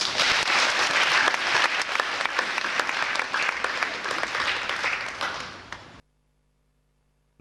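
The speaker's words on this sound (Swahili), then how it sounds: "Patia Yesu makofi." A church congregation applauding, loud sustained clapping from many hands that fades slightly and then cuts off abruptly, leaving near silence.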